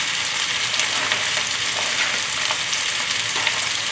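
Chicken chop suey vegetables (bean sprouts, carrot, onion, pea pods, mushrooms, bamboo shoot) hit a hot pan and sizzle loudly and steadily, a dense continuous frying hiss with no talking.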